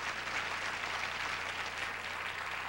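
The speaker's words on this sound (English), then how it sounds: "Nice round of applause for her." Studio audience applause on a 1980 game show set, a steady wash of many hands clapping that holds at an even level throughout, with no voices over it.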